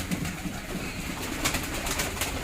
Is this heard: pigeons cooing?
yes